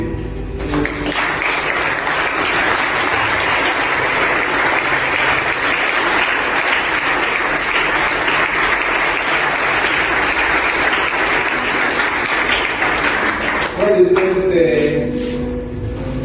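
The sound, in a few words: congregation applauding the word of God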